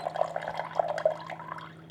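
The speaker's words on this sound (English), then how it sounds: "if you want some water, you can hit that, and it's going to dispense the water for you" Water pours from a countertop RO water purifier into a container, a soft close trickle and gurgle over a steady low electrical hum, with no talking.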